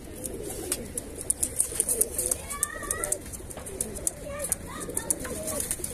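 Pigeons coo close by on a rooftop loft, a group of highflyer birds with soft repeated calls and wing flutters, while someone talks over them throughout.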